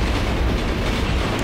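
An electric subway train rolls through underground metro tunnels in the video game Condemned: Criminal Origins, giving a loud, steady, continuous rumble with no voices over it.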